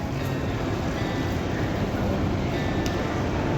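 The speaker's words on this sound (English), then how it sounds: "We have arrived at Hamburg Central Station" Steady wash of crowd and rail noise inside Hamburg Central Station, a broad constant ambience of distant trains and echoing hall murmur with no distinct voices standing out.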